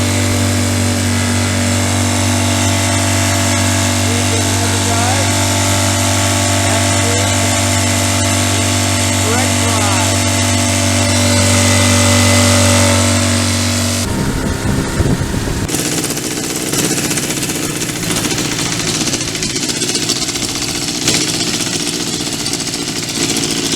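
A 1952 Champion Hydro Drive outboard motor runs steadily with a loud, constant droning hum and a strong low tone, shifting abruptly to a rougher, broader roar partway through as it keeps going.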